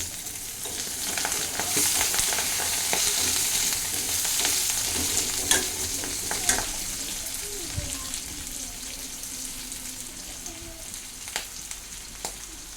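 Potatoes sizzle steadily in hot oil with a bay leaf in a pan, with occasional scrapes and clinks of stirring over the continuous frying hiss.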